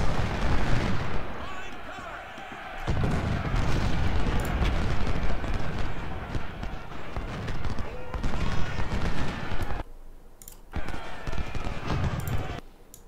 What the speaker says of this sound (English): I'm sure there's cannons here.